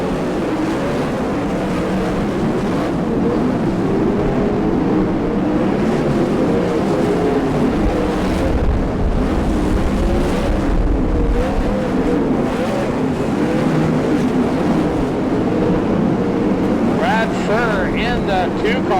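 Sprint cars racing on a dirt track at Bakersfield, California, a loud, continuous roar of engines with swells as the cars pass. A commentator talks over it.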